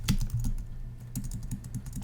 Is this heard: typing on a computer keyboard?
yes